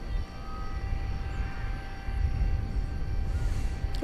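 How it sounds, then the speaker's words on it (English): An Aerologic Boeing 777 freighter coming in to land at DFW Airport at night, a steady low engine rumble and roar at a distance that swells slightly midway, with faint tones over the drone. "Aerologic 777 freighter coming in from Toronto"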